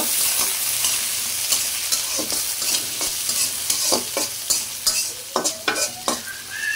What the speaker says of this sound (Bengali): তো আমি প্রথমে পেঁয়াজ দিয়ে দিই। ভালো করে ভাজে নিব।